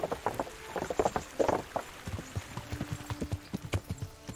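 Horse hooves gallop at a steady, rhythmic clip-clop through a medieval village in Kingdom Come: Deliverance, the beats fairly close and clear with no talk over them.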